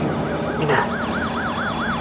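A warbling electronic alarm signal inside a rocket in a Tintin radio play, a rising-and-falling siren tone repeating in a steady rhythm over a low rumbling background, loud and close with no voices.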